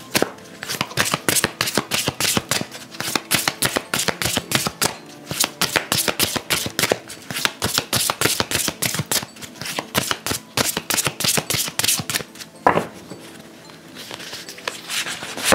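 Oracle cards shuffled by hand in a quiet room, a steady run of rapid riffling flicks and soft slaps repeating for about fifteen seconds, close and fairly loud, with a brief pause near the end.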